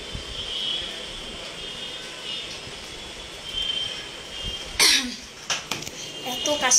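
Coughing indoors: a sharp, loud burst followed by a few smaller coughs, over a steady background hum with no other sound.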